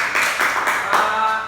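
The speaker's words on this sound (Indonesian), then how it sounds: "Tepuk tangan dulu." Classroom audience clapping briefly in a short, steady burst of handclaps at moderate distance, with no talk over it.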